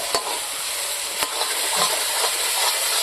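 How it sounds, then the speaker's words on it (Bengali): Spice paste with yogurt fries in oil for rohu fish kalia, a loud, close, continuous sizzle with a few sharp knocks and scrapes of stirring scattered through it, no talking. "ভালো করে মশলাটাকে আবার কষিয়ে নেব"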